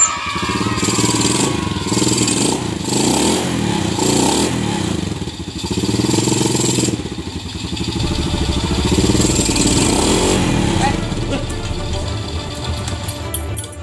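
A neighbour's motorcycle engine runs steadily and close by, a continuous mid-pitched idle with slight revving swells and rattling clatter, alone with no talk over it.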